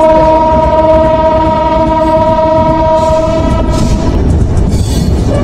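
A train at Gandaria railway station sounds a long, loud horn with steady tones up close, over the heavy rumble of rolling carriages, which continue alone after the horn fades.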